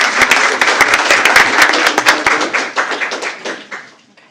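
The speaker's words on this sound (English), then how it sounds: "Let's give this group one big round of applause and send you guys to shake some hands." An audience at a school board of trustees meeting gives loud, dense applause for a group of graduating high school students, with sharp claps up front that thin out and fade away.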